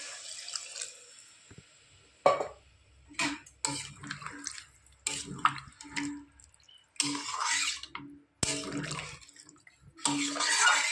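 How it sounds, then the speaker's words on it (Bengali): Water is poured from a container into a prawn and taro curry in a kitchen, coming in several short, quiet splashing bursts separated by brief pauses. "এবার দিয়ে দেবো পরিমাণ মতো জল।"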